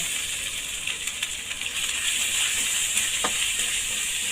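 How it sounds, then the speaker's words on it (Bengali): Onion paste hits a hot pan over a wood-fired village stove and sizzles loudly and steadily, with faint scraping of stirring over the continuous frying hiss. "এখন দিয়ে দিব পেঁয়াজ বাটা।"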